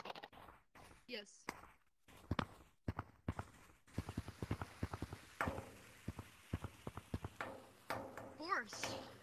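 Horse hooves clip-clop quietly in Gorilla Tag, a virtual reality game, as a steady run of light, rhythmic knocks plays under players chatting and calling out.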